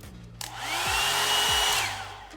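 A hair dryer whirs on with a steady, loud electric blowing hiss and motor hum, holding constant for about two seconds before tapering off.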